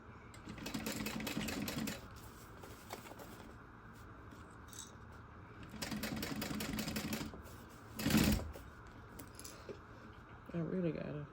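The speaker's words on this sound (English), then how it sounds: "I'm giving it a look over before I start sewing" Sewing machine stitching a circle handbag lining in short bursts of rapid close mechanical whirring separated by pauses, with handling clatter between runs.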